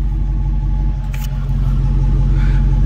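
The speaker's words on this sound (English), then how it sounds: "Check out this Mopar exhaust right here," A 2021 Dodge Challenger R/T with a Hemi V8 and Mopar exhaust idles with a steady, loud, deep rumble close by, holding a continuous low throb throughout.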